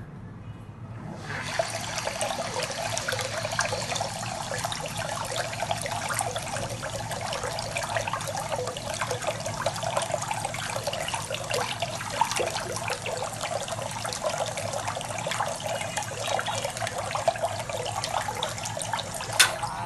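A DC45B-24100S micro brushless 24 V DC water pump runs submerged in water, producing a steady, continuous splashing and gurgling wash of water that starts abruptly and holds at an even level throughout, with no talking.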